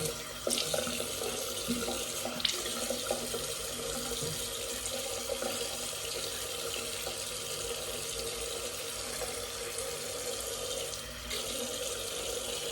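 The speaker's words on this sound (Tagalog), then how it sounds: "Wash your face." A tap runs steadily into a sink while a face is washed, a close continuous splashing stream with small shifts in tone throughout.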